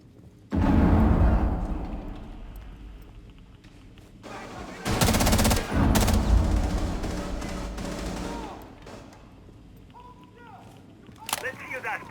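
Rainbow Six Siege gameplay: loud bursts of automatic gunfire crackle in rapid volleys, with sustained firing and brief lulls, while a player's voice talks over the action.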